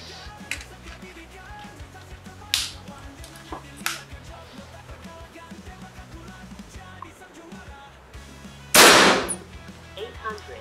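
A single sharp, loud crack of a PCP air rifle shot (Ghost Warrior LGN, 360cc, with built-in regulator) near the end, after a few smaller clicks and handling noises over quiet background.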